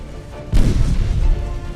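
A single heavy torpedo explosion at sea in the naval game Ultimate Admiral Dreadnoughts, a sudden loud boom that rumbles on and fades slowly, with no speech.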